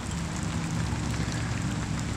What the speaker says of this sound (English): Very big raindrops.